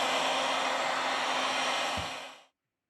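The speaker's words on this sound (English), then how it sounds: "With the help of a heat gun, we apply 90 Celsius degrees during 4 minutes." A heat gun blows hot air onto a Samsung J6 Plus phone screen, a steady loud airy roar heard close that winds down and cuts off near the end.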